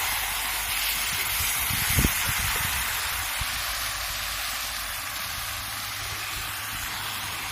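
Chicken frying in a pan for a village-style orange chicken dish, a steady hissing sizzle with a brief louder clatter early on, then an even sizzle.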